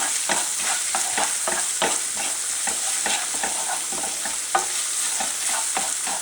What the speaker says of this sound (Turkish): Evet, salçamız kavruluyor.